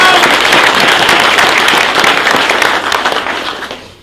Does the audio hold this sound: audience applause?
yes